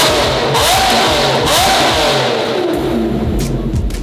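A Lamborghini's engine revs hard and loud close by, with repeated rising and falling throttle blips that roar over a rough idle for several seconds.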